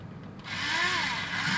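A small battery drill motor spins up after a short quiet moment and holds a steady, high-pitched whine at full speed, close and fairly loud.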